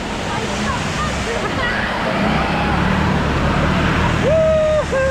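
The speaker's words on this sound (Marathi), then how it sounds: "बस आलेली आहे. पहिला आता आता बघ कशी लाट येईल बघ." A bus drives through a flooded, waterlogged road in heavy rain, pushing a wave of water with a steady loud rush and engine roar, voices in the background and a horn sounding near the end.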